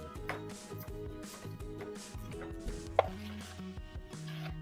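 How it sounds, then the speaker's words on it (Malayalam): A knife taps quickly and evenly on a cutting board, finely chopping vegetables for a healthy pizza topping, quiet and close under soft background music, with one sharper knock partway through. "അതും ഇതുപോലെ തന്നെ ചെറുതായിട്ട് നല്ല പൊടിയായിട്ട് അരിഞ്ഞെടുക്കണം"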